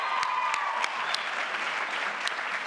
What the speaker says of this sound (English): let us give a round of applause to the CO Director, Kirk Mandler, and to the CO staff.